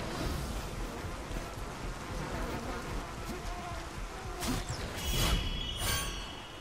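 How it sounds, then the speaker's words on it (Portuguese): Swarming flies buzz continuously in God of War III, a thick, close insect drone over game ambience, with a couple of sharper in-game effects flaring near the end. "Lotado de mosca aqui."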